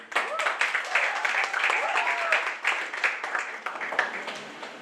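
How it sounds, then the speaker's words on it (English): An audience at an institute's re-launch event applauds the Dean of Students with a dense, steady clatter of claps, and voices call out over it throughout. "round of applause for him"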